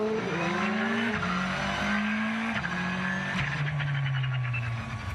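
A WRC rally car in tarmac spec drives hard, its engine note rising through the gears with quick drops at each shift, loud and continuous.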